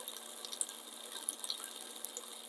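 Water pours into a slow cooker for a plant-based soup, a quiet, steady trickling splash with small irregular drips and splashes, faint and alone.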